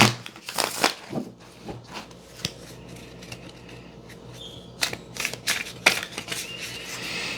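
Tarot cards are riffled and shuffled in quick papery bursts, with soft rubbing and handling noises in between, close and moderately loud.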